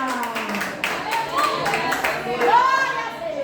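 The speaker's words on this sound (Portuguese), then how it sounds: "Aplauda ao Senhor, se acerca aplaudindo ele, porque ele merece." A church congregation claps along during a worship service, a steady patter of hands running beneath a voice.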